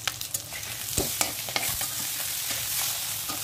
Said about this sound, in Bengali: ভাজতে ভাজতে ডিমটা শক্ত হয়ে যাবে, তখন কাটতে খুব ইজি হবে